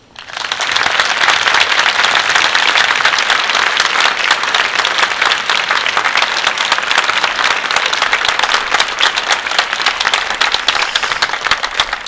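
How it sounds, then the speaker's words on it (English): A seated audience at a poetry performance at Longwood Gardens applauds steadily for about twelve seconds, a dense, even wash of many hands clapping that rises quickly and holds without fading. "thank you to all of you who are gathered here, who clapped very politely just now"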